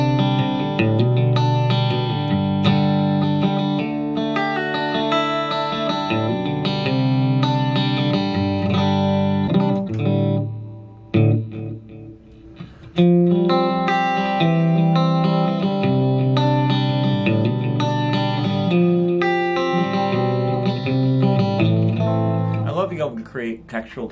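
A Godin Telecaster electric guitar played clean through a Spark amp rings out in glassy, chiming chords and sustained notes, with a short pause midway before the strumming resumes.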